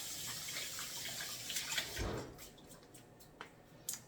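A merino wool garment being settled into a basin of water to soak, with soft sloshing and a few small drips and splashes, faint and close, fading to quiet taps by the end.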